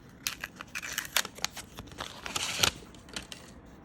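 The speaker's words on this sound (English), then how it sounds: "Go ahead and open this up. Comes in some fancy tissue paper." An Anker MagGo foldable 3-in-1 charger box is unwrapped from fancy tissue paper, giving close, crisp crinkling and rustling in quick irregular bursts, with no speech.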